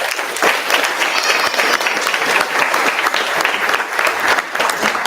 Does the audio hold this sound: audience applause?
yes